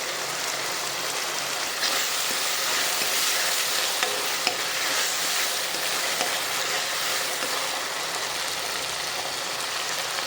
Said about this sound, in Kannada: ಶುಂಠಿ ಬೆಳ್ಳುಳ್ಳಿ ಪೇಸ್ಟನ್ನು ಹಾಕ್ತಾಯಿದ್ದೀನಿ ಸ್ವಲ್ಪ.